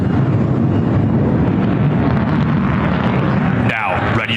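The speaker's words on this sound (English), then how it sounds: "As Major Rogers made his full afterburner, he'll accelerate and start a vertical climb." F-35C fighter jet with a Pratt & Whitney engine at full afterburner, starting a vertical climb over an Independence Day celebration in Washington, DC: a loud, steady broadband roar that fills the whole clip, thinning toward the end as a voice enters.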